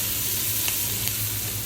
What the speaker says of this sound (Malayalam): അതിനെ നമുക്ക് ഈ എണ്ണയിൽ തന്നെ വഴറ്റിയെടുക്കാം